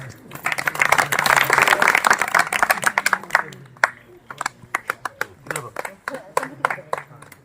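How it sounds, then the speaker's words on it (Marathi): An audience claps to welcome a new pre-school pupil at a school readiness fair, first as dense, loud applause and then thinning to scattered individual claps, with voices talking underneath. "सगळ्यांनी टाळ्या वाजवायचं आहे"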